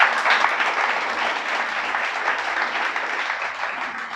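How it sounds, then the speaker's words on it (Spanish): Steady applause from a congregation at a Shabbat sermon, dense clapping sustained throughout at a moderate, even level. "Dale un aplauso a nuestro Salvador"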